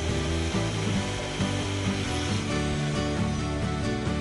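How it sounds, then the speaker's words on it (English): A Festool TS 75 plunge-cut saw cuts through wood, a loud continuous whirring motor and blade rasp heard close throughout. "All this Festool technology culminates with another perfect plunge cut."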